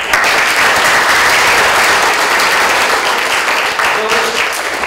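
A dense, steady wave of audience applause at an electoral reform talk in Hamilton, many hands clapping at once, loud and continuous throughout.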